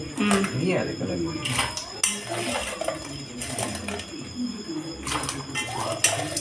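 Washed crabs with roe going into a cooking pot, a series of hard clinks and clattering knocks against metal under ongoing talk.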